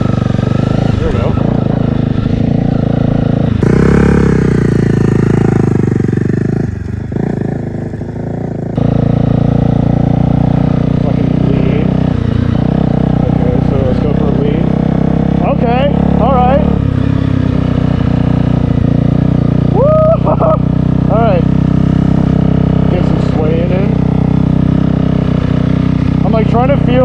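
A Honda CBR250 motorcycle is ridden with a steady engine drone, loud and close, dipping briefly before picking back up, while the rider talks intermittently over it.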